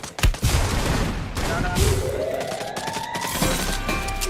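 Gunfire in the battle-royale video game Free Fire, with a burst of shots at the start and further game sounds and effects after it, under excited talk between players.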